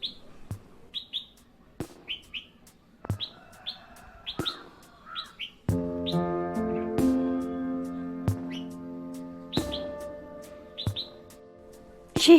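Red-whiskered bulbul singing in breeding season, sharp chirping notes repeated in short bursts, fairly close, over a background of sustained tonal music.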